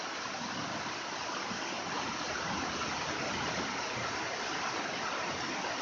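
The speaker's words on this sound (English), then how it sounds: "it's pouring rain outside" Heavy rain pours steadily outside a garage workshop, a dense, continuous hiss with no breaks and no talking over it.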